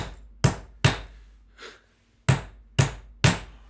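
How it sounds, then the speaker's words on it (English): A hammer strikes bottle caps laid on a floor to flatten them, six sharp, loud blows in an uneven rhythm with a short gap in the middle. "I'm just going to use a hammer"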